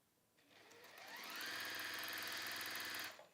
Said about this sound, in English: I'm going to sew down both sides, all the way down